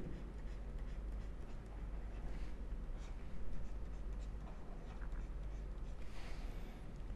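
Marker or chalk writing on a board during a chemistry lecture on molecular symmetry, faint scratchy strokes in short irregular bursts over a low steady room hum, no talk.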